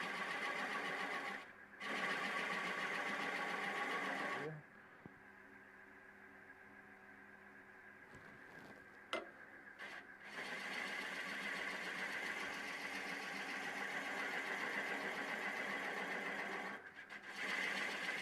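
A 5/8 bowl gouge cutting a wooden hollow-form vase on a lathe, a steady buzzing motor hum broken by several bursts of continuous cutting noise and short pauses, close and even.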